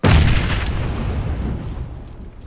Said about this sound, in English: I'm gonna throw a nade at him